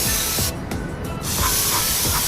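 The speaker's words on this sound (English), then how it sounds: "I'm just gonna kind of nicely spray it and see what comes off." Loud, close hissing bursts of aerosol cleaner sprayed onto a Jeep Wrangler throttle body, broken by a brief pause midway before spraying resumes.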